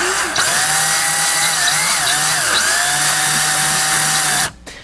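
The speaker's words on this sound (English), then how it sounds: "give the drill a couple of quick turns in order to pull the slack out of the wire" A power drill on a miniature tree-making machine whirs loudly and steadily for a couple of quick turns pulling slack out of wire, its pitch wavering as it turns, then cuts off abruptly just before the end.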